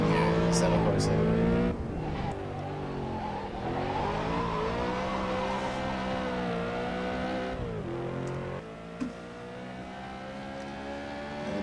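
A BMW M3 E92 drifts in the Assetto Corsa racing game at Magione. The engine holds a loud, sustained, revving whine with rising and falling pitch and tyre squeal, while a voice talks over it.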